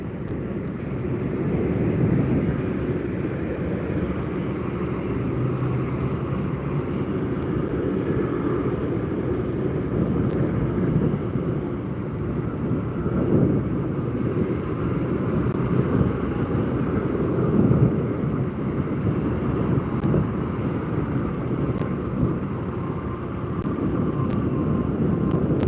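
A loud, steady jet engine roar rumbles continuously, a deep broadband noise that persists without letup, heard from some distance.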